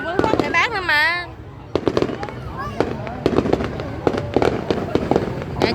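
Large firework shells bursting in rapid succession at a city fireworks display in Long Khanh, Vietnam in 2023, sharp loud booms and crackles under close talking voices.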